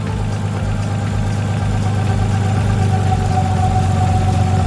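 A Nissan R33 engine idles with an uneven, stumbling rhythm from a misfire, steady and loud up close.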